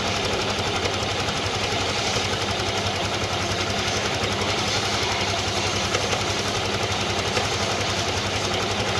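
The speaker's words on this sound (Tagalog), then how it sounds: "ito mas malinaw na tunog. May kalantog siya" A Honda Click 125 scooter idles steadily at close range with a constant mechanical knocking rattle, even and unbroken throughout, with no voices.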